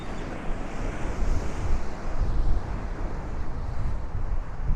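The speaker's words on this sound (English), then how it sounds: "we're gonna see some crashing waves up on the seawall" Ocean waves surge and crash against a seawall along a Brooklyn waterfront shore, a loud, continuous rush of surf mixed with wind buffeting the microphone.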